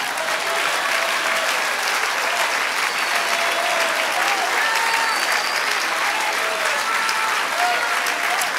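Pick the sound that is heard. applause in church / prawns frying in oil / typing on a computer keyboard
applause in church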